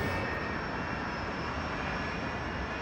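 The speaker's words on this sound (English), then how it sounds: "Bashkirian Airlines Flight 2937 leaves Moscow. The plane is a Tupolev 154." The engines of a Tupolev 154 jet airliner in flight produce a constant, loud, broadband roar with a faint high whine, steady and unbroken throughout, with no voices.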